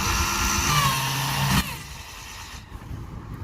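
A drill boring holes into a flat wooden fishing lure blank, a steady high-pitched motor whine with bit noise that cuts off partway, leaving a quiet room.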